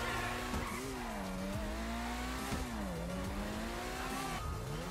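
A fast car in GTA Online, modelled on the Mercedes AMG One, drives with a steady engine drone whose pitch rises and falls, plus brief tire squeals, close and continuous with no talking.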